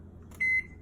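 A kitchen microwave oven gives a single clear electronic beep, a steady tone held for about a fifth of a second, preceded by a brief button click and sitting over low room hum.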